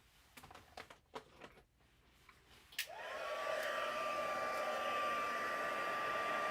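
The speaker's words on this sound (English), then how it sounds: "And then I'll just come in with my heat tool." After a few light taps and clicks, a craft heat tool switches on and blows a steady, close whooshing hum with a faint whine, warming embossing powder on a handmade gift card.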